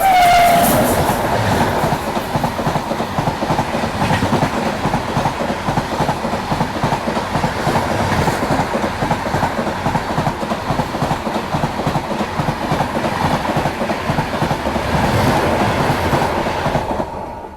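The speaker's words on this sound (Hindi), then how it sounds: "तो इधर से ट्रेन आ रही है, मतलब ये श्रीगंगानगर नांदेड़ जो है वो होगी।" An express train running between Nanded and Sri Ganganagar passes on a single-track line in rural Maharashtra, a loud, steady rumble and clatter of wagons over rails lasting throughout, with no talk.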